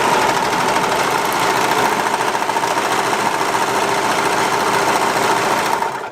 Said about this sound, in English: see how it stitches on the machine